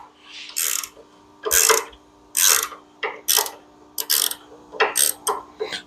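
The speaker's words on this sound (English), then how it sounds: "The ratchet wrench." Ratchet wrench turning bolts while a 1957 Chevy Bel Air chassis is reassembled, about a dozen bursts of sharp clicking strokes in an uneven rhythm, loud and close, with no talking.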